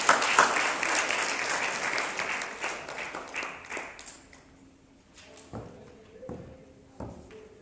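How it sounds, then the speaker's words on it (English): An audience at a customer service convention in Botswana applauds loudly, then the clapping thins out into scattered claps and a few knocks. "with a big round of applause"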